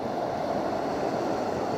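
Mountain river water rushing steadily around someone wading across it on Mt. Banahaw, a continuous broadband wash with no talk, close and even throughout.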